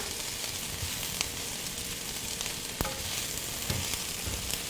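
Mushrooms sizzle in a pan over medium heat, a steady close hiss of frying with occasional sharp crackles and a stir or two, no talking.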